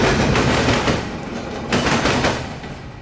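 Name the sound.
coal train with distributed power locomotive passing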